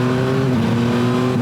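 The engine of a Yamaha Tracer 9 GT motorcycle revs loudly and steadily close by, with its pitch dropping briefly as the quick shifter clicks through an upshift before the drone pulls on again.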